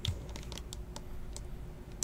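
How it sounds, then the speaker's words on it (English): Keys are pressed on a computer keyboard to enter Control-Alt-Delete on a frozen machine, heard as a quick run of sharp, close plastic clicks spread across about two seconds, with no talking. "So hit Control-Alt-Delete on the keyboard."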